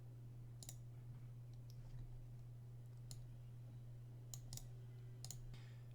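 Computer mouse clicks, about seven sharp, quiet taps spread irregularly over a low steady electrical hum.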